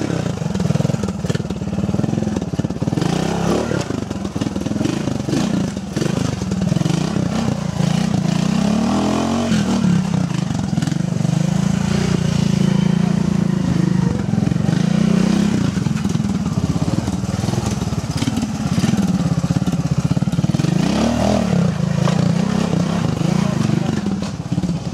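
A Honda trial motorcycle ridden through a section at the Ventoux Trial Classic gives a continuous engine burble with rising and falling revs, while a commentator talks over it throughout.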